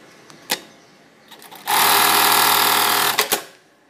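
A Siruba PK533 industrial sewing machine starts up after a few clicks and runs steadily at high speed for about a second and a half, loud and close, then stops with a couple of mechanical knocks.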